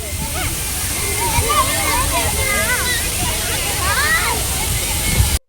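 An artificial waterfall at an exhibition pours and splashes in a loud, continuous rush of water, with a crowd's chatter and voices mixed in throughout.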